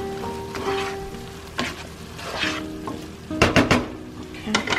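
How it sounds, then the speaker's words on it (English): Ginger fried rice with a bouillon cube is stirred in a hot frying pan, steady sizzling broken by several scraping strokes and a few sharp clanks of utensil on metal, close and loud with no talk. "Mix it really well."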